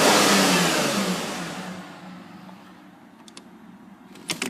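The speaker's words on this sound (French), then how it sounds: "je vais juste accélérer vite fait pour vous faire écouter" A Renault Vel Satis 3.5 V6 blips its throttle once, a loud close rev that swells and then falls away to a quiet idle, with faint clicks and small knocks near the end and no talking.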